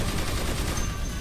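Chain gun firing in the DCUO video game, a dense, steady roar of rapid automatic shots running continuously at close range with no pauses.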